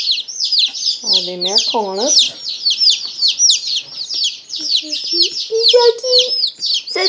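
Baby chicks, including Americana chicks, freshly arrived by mail, chirping rapidly and constantly in close, high, overlapping peeps while people talk softly over them.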